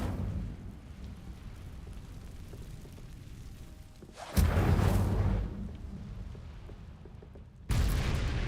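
Incendio fire spell cast in Hogwarts Legacy, a sudden loud whooshing burst of flame after a quiet low rumble, then a second burst starting near the end.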